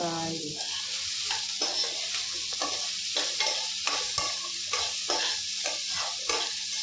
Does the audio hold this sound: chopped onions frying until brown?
yes